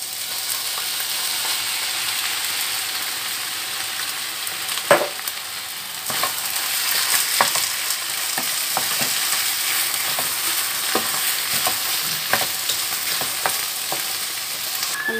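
Sauce being added and stirred in a pan for lasagna, a steady sizzling frying hiss with scraping clicks and taps of the utensil against the pan throughout, no talking.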